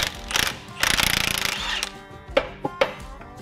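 A 29 mm front pinion nut comes off a Jeep differential with a rattling burst from a power tool, followed by a few sharp metallic clicks and clinks, close by and without talk.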